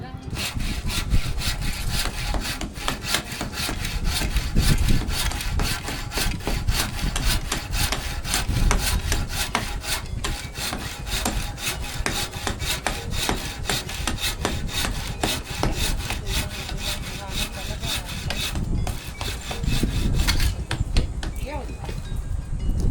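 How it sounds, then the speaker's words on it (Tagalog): A sharp hand saw rasps rhythmically through wood in quick back-and-forth strokes, close and continuous, with occasional voices in the background, during septic tank construction. "Matalim yata yung lagari ni Kuya Toy."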